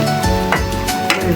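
Egg kohi bhaji frying in oil sizzles loudly and close up, with a couple of brief bursts of spatter and a few clinks over a constant hiss; no one talks.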